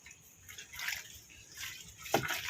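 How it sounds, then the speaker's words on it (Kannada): Water poured onto potted plants in a terrace garden lands in uneven splashes and trickles, several soft pours and one sharper splash, close by and otherwise quiet. "ಇನ್ನೊಂದು ಸ್ವಲ್ಪ ನೀರು ಹಾಕ್ಬಿಡ್ತೀನಿ"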